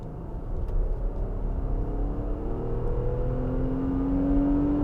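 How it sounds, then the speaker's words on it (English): A 2022 Infiniti QX60 accelerates up a highway on-ramp, starting in third gear and shifting with the paddle shifters. The engine drones steadily and its pitch climbs as it revs, over constant road rumble, with no talking. "So as promised, gonna use the paddle shifters as we get on the highway."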